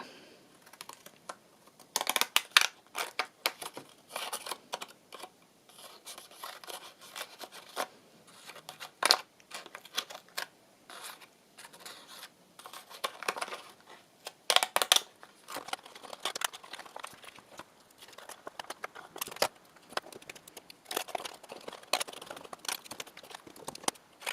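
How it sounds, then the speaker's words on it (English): Repeated crisp snipping and clicking of decorative edge scissors cutting paper in short bursts, close and fairly quiet, with pauses between runs of cuts. "I think this one I might cut out with my"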